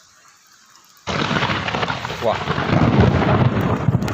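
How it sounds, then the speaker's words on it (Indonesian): A sudden loud thunderclap from lightning over an open farm field bursts in after a quiet moment and rolls on as a rumbling crash, and a voice briefly exclaims over it. "petir kawan"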